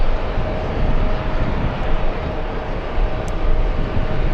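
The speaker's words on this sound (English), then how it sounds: "pretty smooth and stable for the Etihad Super, behemoth of the skies" Etihad airliner jet engines heard from inside the cabin in flight, a loud steady broadband rumble with a faint constant whine and no speech.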